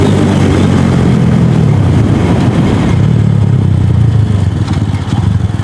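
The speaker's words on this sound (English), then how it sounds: "How I love engine braking, comes in handy when you need it." A DF250RTS / Venom X22R motorcycle engine braking while riding, a loud continuous engine drone that shifts and falls in pitch as the bike slows, with wind rush throughout.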